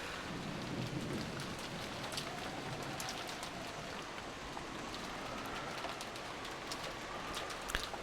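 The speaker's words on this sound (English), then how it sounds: "disappeared beneath the sound of the rain" Steady rain falling in the Umineko video game, a continuous soft hiss of drops with faint low rumbles beneath, heard alone without speech.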